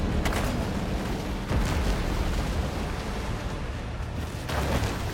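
A blast in the shark game Maneater, aimed at a boat of marine-grade aluminum: a dense, rumbling roar fills the whole span, with sharper bursts near the start, around the middle and again at the end.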